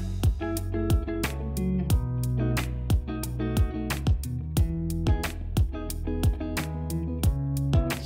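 A music mix layering a Wurlitzer electric piano and a square pad synth under a steady beat of sharp, regular drum hits, with sustained tonal chords filling the space beneath.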